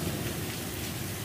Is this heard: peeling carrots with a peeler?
no